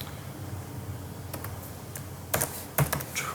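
Someone types on a computer keyboard, a few scattered key clicks followed by two sharper, louder taps, close and indoors over a faint background hum.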